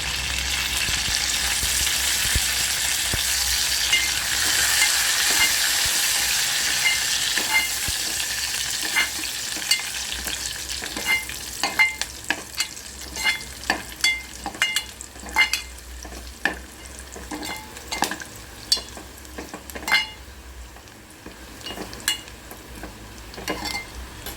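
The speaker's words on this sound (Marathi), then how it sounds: "भाजताना त्याच्यामध्ये आपल्याला कढीपत्त्याची पानं टाकायची" Curry leaves crackling in hot oil while garlic roasts for a moong dal amti, opening with a loud hissing burst that settles into a steady fry dotted with many sharp spitting pops, no voices.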